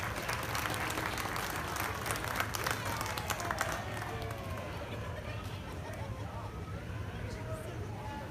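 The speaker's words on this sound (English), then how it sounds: "Let's give them all another nice round of applause." An audience at a youth dairy cattle show claps in a sustained, even round of applause, loudest early then easing slightly, with crowd murmur underneath.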